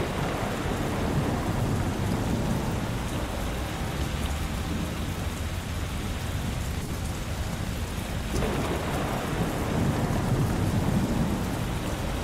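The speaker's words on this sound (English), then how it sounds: "Heavy rain and darkness everywhere." Heavy, steady rain pours continuously with low rumbling thunder rolling underneath, dense and loud throughout with no voices, a storm at sea in a 3D animated film.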